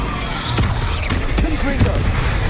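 A Confringo spell blast in the video game Hogwarts Legacy during an arena battle, with whooshing magical bursts and booming impacts over a dense, noisy combat mix; a voice shouts during the fight.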